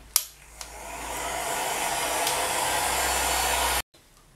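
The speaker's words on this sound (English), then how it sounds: "you'll just need to mix it around while you're using your heat gun" A heat gun blows steadily while drying polymer clay, its whooshing hiss starting after a couple of clicks and running loud and even before cutting off abruptly near the end.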